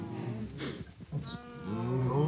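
Cows in a Minecraft farm moo, a couple of low drawn-out calls close by, with the second stretching longer near the end.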